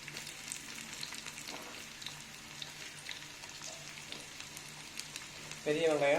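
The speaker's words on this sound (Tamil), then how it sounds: "எண்ணெய் கொஞ்சம் நல்லா காஞ்சதும் வெங்காயம் போடுங்க" Sliced big onions frying in hot oil give a steady soft sizzle throughout, and a louder stir or clatter rises near the end.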